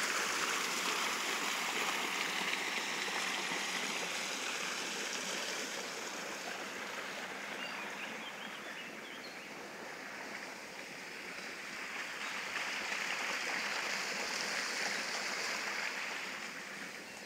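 The Darnychanka river flows through woodland between Kyiv and Brovary, a steady, close rushing wash of water that swells and eases slightly over many seconds with no voices.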